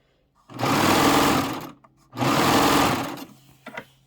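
A serger sewing machine finishes the back of a pillow in two loud, steady bursts of fast stitching, each about a second and a half long, with a short pause between them and a few faint clicks at the end.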